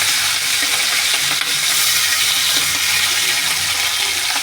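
Prawns frying in hot oil, a loud, dense and continuous hiss of sizzling close up, steady throughout with little variation.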